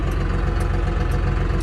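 A tractor engine runs close by in a steady, loud, low rumble with an even throbbing pulse, unbroken and with no voices.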